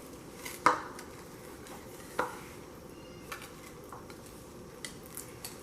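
Spoon tapping and knocking against a bowl while mixing pumpkin cheesecake muffin batter, a few sharp clinks and soft irregular scrapes, close but fairly quiet, over a steady background hum with no talking.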